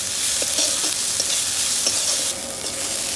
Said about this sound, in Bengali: পেঁয়াজ আদা রসুনটা ভালো করে ভাজা হয়ে গেছে